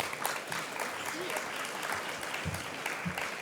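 Audience applause at a conference keynote on the future of real-estate search, a steady dense clapping wash from a crowd that holds at an even level for the whole stretch.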